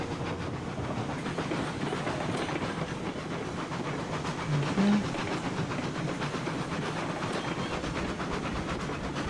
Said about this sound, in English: we'll let the locomotive build speed